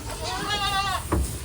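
A goat on a Dutch farm gives a wavering, drawn-out bleat close by, with farm background noise around it.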